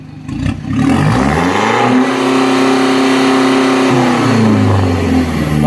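A 1.9 diesel pickup with a Dinobox Raptor remap tuning box in smoke-off mode revs hard at full throttle, climbing quickly to a loud sustained high-rpm roar, holding it, then dropping back.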